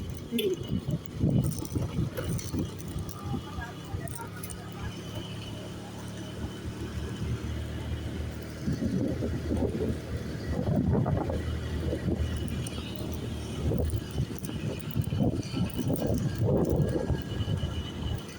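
Motorcycle joyride with a steady engine drone and heavy wind rumbling past the rider, moderately loud throughout, with occasional talk from the riders.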